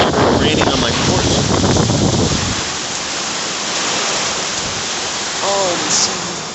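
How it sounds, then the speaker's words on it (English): Rain falling on a porch during a wind storm, a steady broadband hiss of drops and gusting wind that holds up all the way through, with a brief voice in the first seconds. "Raining on my porch."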